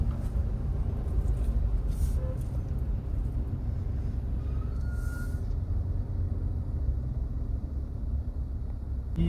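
Steady low rumble of slow road traffic with cars, trucks and buses on a one-way road, continuous engine drone and occasional faint higher whines, heard from inside a vehicle with no talking.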